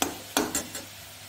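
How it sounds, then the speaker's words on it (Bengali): Grated carrots frying in ghee for carrot halwa: a few quick, close spatula scrapes and stirs over a soft sizzle, fading after the third stroke. "ঘি দিয়ে ভেজে নিচ্ছি"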